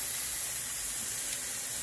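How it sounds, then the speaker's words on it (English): Beef hot dogs sizzling on a grill, a soft, continuous hiss with a faint crackle, steady and fairly quiet throughout. "Look at that sizzle."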